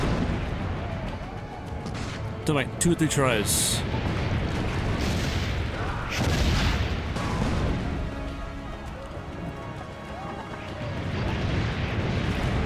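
Cannon fire in the video game Assassin's Creed Brotherhood, heavy booming blasts amid continuous battle noise and clattering, with someone talking over the action.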